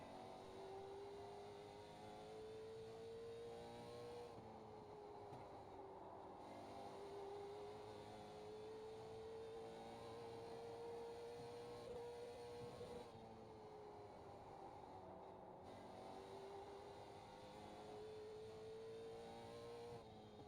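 Late Model Stock car in iRacing lapping Concord, a steady in-car engine drone rising and falling in pitch through the corners, with two brief lifts for braking, loud and continuous with no talk.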